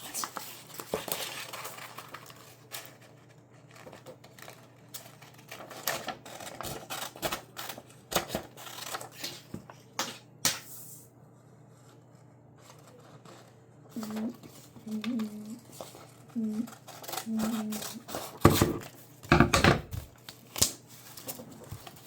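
Scissors snip through paper while cutting out the wings of a paper DC-10-10 model airplane, close and irregular, with crinkling paper and bursts of handling between cuts.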